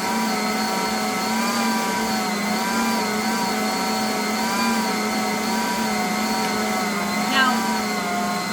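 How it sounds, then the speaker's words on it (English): An electric mixer kneads bread dough at high speed, giving a steady, loud motor whine with a strong tonal hum that holds unbroken throughout and wavers only slightly in pitch. "if you're working with a hand electric mixer or working with your hands, now you can turn this up pretty high"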